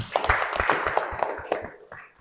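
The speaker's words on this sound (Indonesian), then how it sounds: "Tepuk tangan untuk Badur." A classroom group clapping in a quick, irregular patter of separate hand claps, close and moderately loud, thinning out and fading toward the end, with no talk over it.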